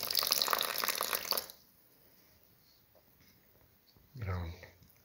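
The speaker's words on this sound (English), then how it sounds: "50 to 75 ml of water" Water poured into a banana, egg and wheat batter, a short liquid pour and splash near the mic after a burst of louder mixing noise, with quiet pauses between.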